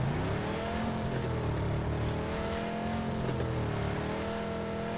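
A car engine in the battle royale game PUBG revs and accelerates continuously, a loud sustained drone with shifting pitch, heard alone without talk.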